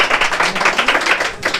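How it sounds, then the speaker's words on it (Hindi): Students in a Hindi coaching class applaud an award winner at an exam prize ceremony: steady, fast, dense clapping from a close group, loud and continuous for a second and a half. "तो इसके लिए जोरदार ताली होना चाहिए बाबू।"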